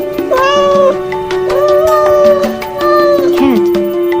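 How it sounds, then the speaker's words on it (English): A domestic cat meows loudly and close, three drawn-out tonal meows in a row, each rising and falling, heard alone without talk. "Cat."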